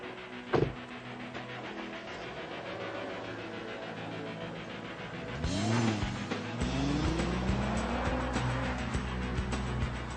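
A Mercedes C32 AMG with a supercharged, hand-built 3.2-litre V6 starts up and revs, rising and falling in pitch, then settles into a steady drone, after a quieter opening with a brief thump.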